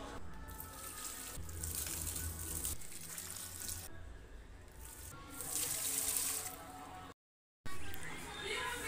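Water poured from a bucket onto plants, splashing and gushing in uneven bursts at close range, with a brief silent gap near the end.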